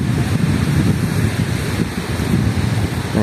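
Waves wash continuously onto a white-sand beach while wind buffets the microphone, a steady roaring rush with no voices.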